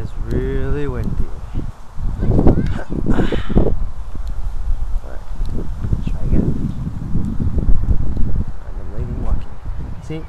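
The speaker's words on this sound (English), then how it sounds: "It is really windy." Gusty wind rumbles and rustles across the microphone throughout, with a person speaking at times over it.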